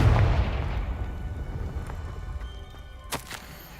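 A Confringo fire spell explodes in Hogwarts Legacy, a loud booming blast that decays into a rumbling tail, followed near the end by a sharp crack-like burst, with no talk.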